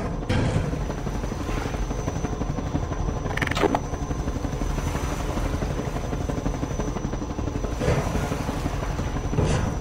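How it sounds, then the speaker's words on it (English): A helicopter in Half-Life 2 hovers close by, its rotor beating in a loud, continuous throbbing drone with a few sharper bursts over the top. "if that helicopter wasn't there, I would be doing this easy"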